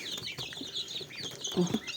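Hens and white roosters cluck and murmur close by, with a few higher chirps and soft rustling, over quiet background noise.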